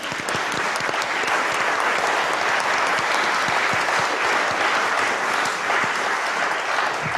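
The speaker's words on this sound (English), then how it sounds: "let's have a little round of applause for Linda." Sustained audience applause at a Tring Book Festival 2021 talk, a dense, even wash of clapping from many hands that holds steady throughout.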